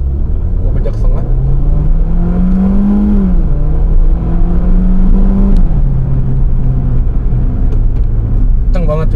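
A 2014 Ford Fiesta 1.5 Sport with a tiptronic automatic accelerates on an empty road, its engine drone rising in pitch, easing briefly at a shift, then climbing again. It is heard from inside the cabin under constant loud talk.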